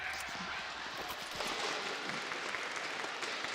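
Crowd of fans cheering and applauding at a CS2 esports playoff match, a steady wash of noise rising slightly midway, under continuous commentator talk.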